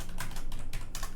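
Fast typing on a computer keyboard, a quick run of close, crisp key clicks in an otherwise quiet room.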